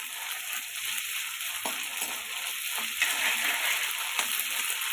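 Tomato frying in oil with ginger-garlic paste, a steady soft sizzle and crackle close by, with a few faint clinks partway through.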